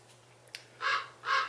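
Crows caw outdoors, two distinct harsh calls in quick succession, fairly near and clear, over a low steady hum with a couple of faint chirps beforehand.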